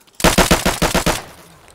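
A loud, close burst of rapid gunfire, about eight sharp shots in quick even succession, ending in a brief fading echo.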